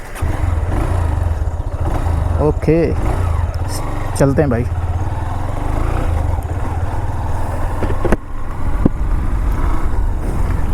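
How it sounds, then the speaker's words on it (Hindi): A motorcycle engine idles with a steady low throb, a couple of sharp clicks and brief revs, while someone talks briefly over it. "तो बाइक स्टार्ट करते हैं।"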